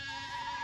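Goats called in from pasture among cattle give a brief bleat, heard as a short sustained nasal cry close by.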